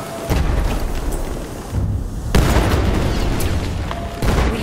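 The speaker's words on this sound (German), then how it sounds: "Hier ist eine Granate!" Grenade blasts in the video game Battlefield 1, with loud, booming explosions arriving in three separate bursts amid continuous battlefield noise.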